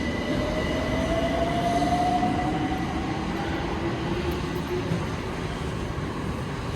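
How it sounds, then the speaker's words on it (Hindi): A London Overground train bound for Denmark Hill rumbles steadily at close range, with a faint rising whine and a long thin wheel squeal running through the constant roar. "तो भाई साहब यही ट्रेन है, डेनमार्क हेल की तरफ जाएगी ये।"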